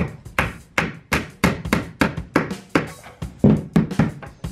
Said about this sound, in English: So in my case I'm going to nail these corners.